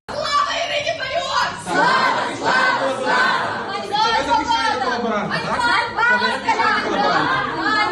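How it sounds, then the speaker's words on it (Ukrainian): Angry crowd in a courtroom shouting at defense lawyers as they leave the hall, many loud overlapping voices yelling in bursts throughout. "адвокати підозрюваного виходили із зали під вигуки ганьба російськомовним адвокатам"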